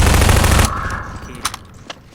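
A loud, rapid burst of automatic gunfire in Half-Life 2: Lost Coast fills the first moment, then cuts off, followed by a few sharper, fainter single shots and clicks against a quiet background.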